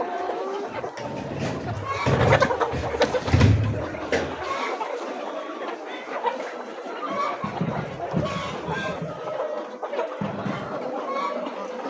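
Layer hens cluck and chatter in a poultry house, a busy flock close by with bursts of louder clucking, while a person speaks over them.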